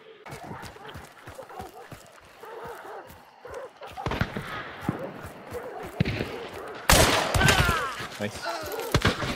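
Gunshots crack in bursts during a shooting video game, with sharp repeated reports mixed with footsteps and movement, growing louder and denser toward the end, while voices talk over the action.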